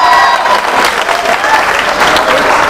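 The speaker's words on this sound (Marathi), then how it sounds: "जोरदार टाळ्या होत्या मॅडमसाठी." A quiz audience at a coaching institute breaks into loud, dense applause, a continuous close clatter of many hands clapping for the woman who answered correctly.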